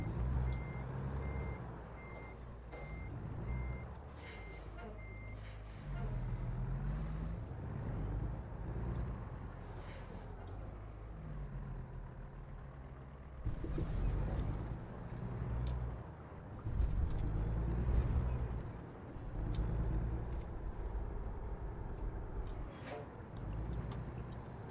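A heavy Peterbilt 579 truck engine in a video game rumbles and revs, its pitch rising and falling as it drives, with a steady electronic beeping early on and no talking.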